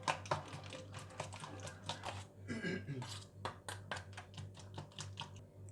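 Eggs are beaten briskly in a bowl for a bread omelette, giving a fast run of light clicking and tapping strokes against the bowl over a steady low hum.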